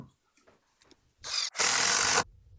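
An impact driver sinks a 2.5-inch screw into the wooden stretcher of a tall deck chair, starting with soft scuffs and brief bursts before a loud, steady whirring run that stops abruptly, close up with no talk.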